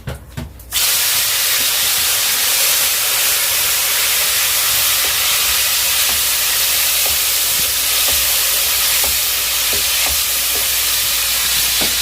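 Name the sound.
cumin frying in oil until brownish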